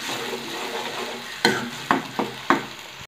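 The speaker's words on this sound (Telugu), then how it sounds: "ఇప్పుడు దీన్ని బాగా ఫ్రై చేసుకోవాలి ఈ ఆయిల్లో." Ground masala fries in oil in a pan under a soft steady sizzle, broken by four sharp stirring scrapes in the second half.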